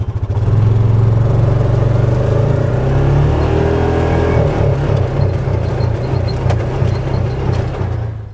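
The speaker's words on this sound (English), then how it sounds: "if you don't have your seatbelt on and you do accelerate, it will start to cut out on the motor" A Yamaha Viking 700 side-by-side utility vehicle accelerates without the seatbelt fastened, its motor droning loud and close, then stuttering and cutting out toward the end as the restriction kicks in.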